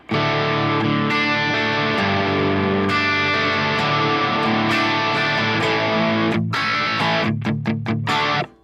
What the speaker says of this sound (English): I'm not sure why I'm getting distortion right now.